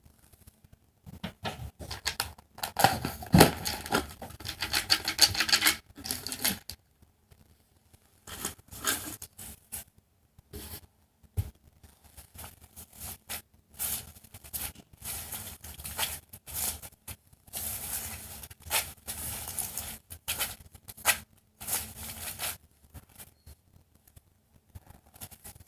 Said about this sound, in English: I'm not looking at these while I shuffle them.